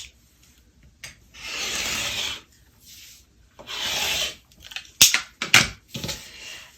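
Quilt fabric is cut into strips for an American flag quilt: two long, even rasping cutting strokes, followed by a few sharp clicks and shorter scrapes, all close by and without talking.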